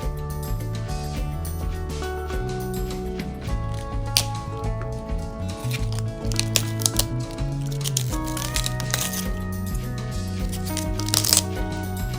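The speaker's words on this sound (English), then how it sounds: "Cut head of cauliflower." A knife cutting a head of cauliflower into florets, crisp snapping and crunching cuts scattered through the clip, partly masked by steady background music.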